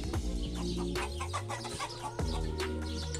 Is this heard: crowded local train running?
no